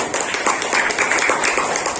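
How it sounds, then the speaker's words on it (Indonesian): A classroom group claps together in a dense, continuous patter, moderately loud and close, with no voices over it. "tepuk tangan"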